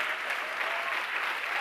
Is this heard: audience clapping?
yes